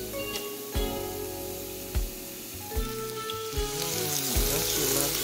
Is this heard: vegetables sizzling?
yes